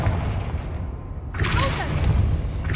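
A Confringo blasting spell explodes in Hogwarts Legacy, a sudden burst midway that follows a low rumble and leaves crackling debris and a ringing tail, with a voice talking faintly underneath.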